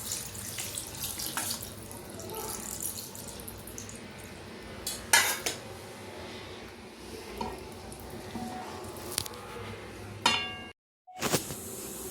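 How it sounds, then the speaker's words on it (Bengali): Water pouring into a fish mixture while cooking hilsa, a steady splashing trickle with a few clinks of a utensil against the pot, then a brief pause before the pouring resumes. "এবার এর মধ্যে জল দিয়ে দেবো।"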